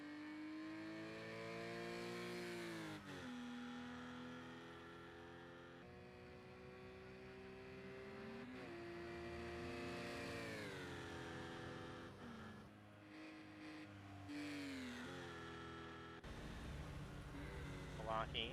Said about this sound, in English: Hopefully that car audio is coming through nice and loud still.